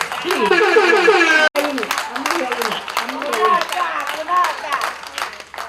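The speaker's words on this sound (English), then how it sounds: "Please, a round of applause for her." At an Igbo women's gala night in Abuja, an audience claps for the national president, with scattered, uneven hand claps running beneath loud voices talking and calling out throughout.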